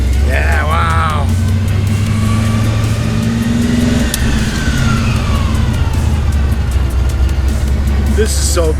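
A 1970 Chevelle SS muscle car with a Hurst shifter cruising down a road, its engine a loud, constant low drone, with a brief voice near the start.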